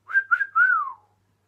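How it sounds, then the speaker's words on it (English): A person whistles a short three-note phrase close by, clear tones that hold and then slide downward, alone over silence. "can I whistle? Let's find out."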